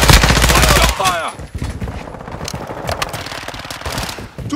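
Machine gun fire in Call of Duty Modern Warfare 2, a loud rapid burst at the start that fades into scattered distant shots and battle noise, with voices calling out.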